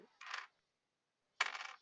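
Dice dropped onto a table during a tabletop role-playing game session: two separate quick clattering rolls about a second apart, close and clear, with no talking.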